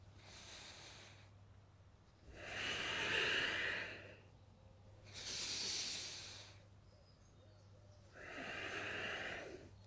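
Slow, deep breaths during a vinyasa yoga session, each a long airy rush lasting about two seconds, with pauses between, four in all, close and fairly loud over a low steady hum.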